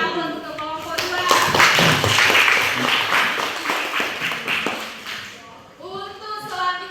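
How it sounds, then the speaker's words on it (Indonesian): Applause for presentation group 2 in a classroom: a burst of many hands clapping, fairly close and loud, lasting several seconds and then fading, with voices speaking before and after. "Beri aplaus untuk kelompok 2."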